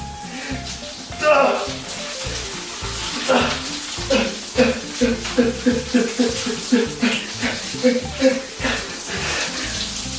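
Cold water runs continuously from a shower, a steady close hiss and splash, while a person murmurs briefly under the spray.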